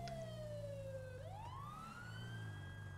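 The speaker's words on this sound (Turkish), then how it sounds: "Siren geliyor." A police siren wails in a video game, its pitch sweeping down and then rising again over a steady low engine rumble, fairly faint and with no talk over it.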